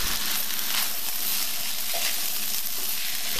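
Arroz chaufa fried rice with soy sauce sizzles steadily in a hot pan as it is stirred, a loud, continuous close-up frying hiss with faint scraping and no speech.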